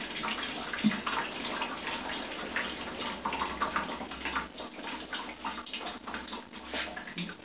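Water pours and streams off a papermaking mould screen lifted from a vat of chontaduro fibre pulp, a steady close splashing trickle running throughout with no voices.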